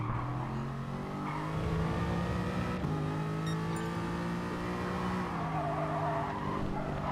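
A race car in the GT Sport video game brakes hard and skids, tyres squealing continuously over a steady engine drone that shifts pitch as it slows, loud and close throughout.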